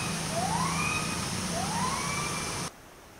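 Song of a neighbouring gibbon group: two rising whooping calls sweep upward one after another over a steady background hum, then cut off abruptly.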